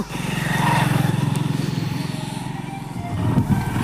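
A motorcycle engine rumbles close by with a steady throbbing pulse as the bike sets off in the rain, swelling slightly then settling, with no one talking.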